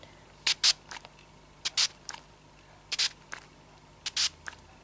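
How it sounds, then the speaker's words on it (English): Four quick pairs of short hissing sprays from a pump bottle, evenly spaced and close, in a quiet room. "And when I spray it"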